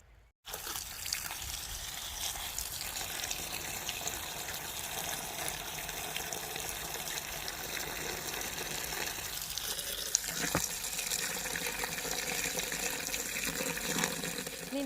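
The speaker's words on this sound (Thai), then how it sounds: "ไปเติมน้ำใส่ให้ให้เต็มถังเลยนะคะ" Water pours steadily into a bucket of nettle ferment, a continuous close gushing and splashing from a hose or tap that holds even for about fifteen seconds, with no talking.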